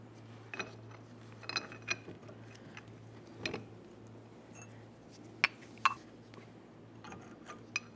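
A 24mm socket in a press forces the upper control arm bushing of a 2002-2009 Chevrolet Trailblazer through, giving sparse sharp clicks and creaks over a low steady hum.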